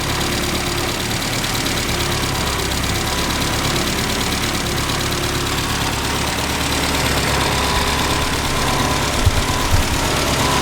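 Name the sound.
1071 S Classic Mini engine idling, running on one carb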